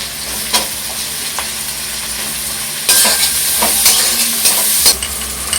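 Chopped onion and curry leaves fry loudly in a pan, making a strong continuous sizzle that swells when stirred, with a few scraping knocks and no talking.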